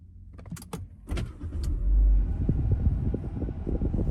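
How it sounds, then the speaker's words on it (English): A Proton Persona MC2 car is switched on: a couple of sharp clicks, then an electric whir and low engine rumble swelling and settling into a steady idle, heard close inside the car. "Okay, let me switch on the car first."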